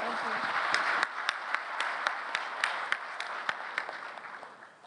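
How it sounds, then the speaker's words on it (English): An audience at a policy dialogue forum applauds its panelists with sustained, dense clapping and a few sharper claps standing out near the front, then thinning and fading toward the end. "give them a big hand of applause"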